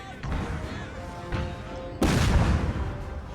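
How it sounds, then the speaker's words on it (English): Napoleonic cannon artillery from the Napoleon: Total War battle game booms as a sudden loud blast at about two seconds, over ongoing battlefield din with muffled shots earlier. "Cannon."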